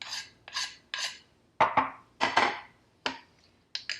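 A spoon scraping the last of a small amount of seasoning into a bowl: a series of short, dry rasping strokes in bursts, close and fairly quiet, with no talking.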